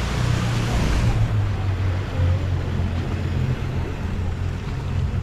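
Tour boats on harbour water give a low steady engine drone under strong wind buffeting and lapping water, heard nearby without speech.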